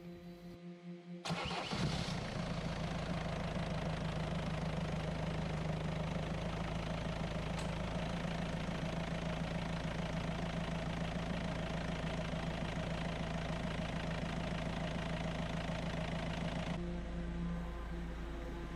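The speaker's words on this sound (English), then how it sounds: "Then it was time for the startup with a new turbo." A Peugeot Partner van engine fitted with a new turbo cranks and catches, then settles into a steady, loud idle with a constant rumble for the rest of the clip.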